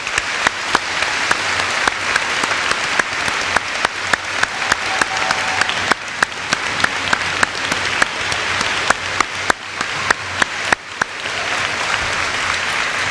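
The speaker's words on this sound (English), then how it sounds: "Please give them a round of applause." A crowd at a school Veterans Day ceremony gives World War II veterans sustained, even applause, a steady roar of clapping with sharper individual claps standing out near the front.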